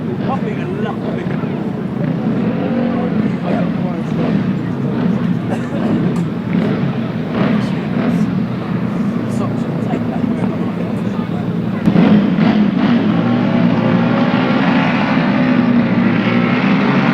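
Several grasstrack racing motorcycles roar away together at a race start, a loud, dense sustained engine drone that swells further after about twelve seconds.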